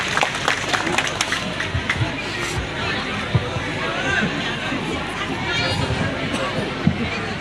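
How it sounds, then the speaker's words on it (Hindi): Crowd clapping to welcome Delhi Chief Minister Rekha Gupta at a public gathering, dense ongoing applause mixed with chatter and scattered louder claps. "जोरदार तालियों से अभिनंदन श्रीमती रेखा गुप्ता जी सीएम साहिब।"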